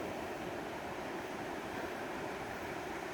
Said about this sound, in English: The waves aren't too big today.